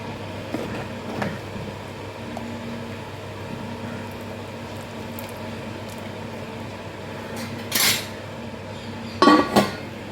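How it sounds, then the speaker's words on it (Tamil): A lid clatters onto a pot of simmering dried fish and field bean curry, two short metallic clanks near the end after a quiet stretch of low kitchen background. "மூடி வச்சுக்கலாம்"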